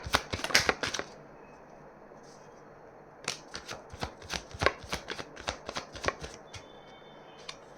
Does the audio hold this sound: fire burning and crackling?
no